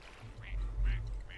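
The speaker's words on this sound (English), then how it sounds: "See if we can name this duck yet." Duck in the video game Hundred Days giving three short nasal quacks at a steady spacing, set over a low rumbling background with a voice speaking underneath.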